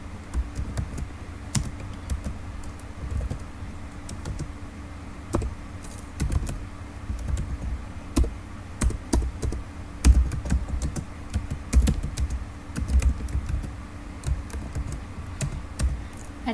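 Rapid, steady clicking of computer keyboard keys as HTML code is typed for a class-10 practical exercise, continuing closely and alone for about sixteen seconds with irregular louder keystrokes.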